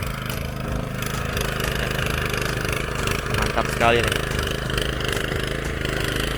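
A Firman FTL620 mini plough tiller engine runs steadily in a hard farm field, a constant close mechanical drone with a slight surge midway, while someone speaks over it.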